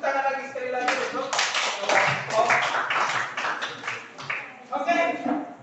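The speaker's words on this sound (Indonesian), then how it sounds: "Silakan kembali kasih tepuk tangan lagi sekali lagi untuk" A classroom of junior high students claps hands together in a round of applause, steady and close, with bursts of clapping continuing for several seconds and some voices mixed in.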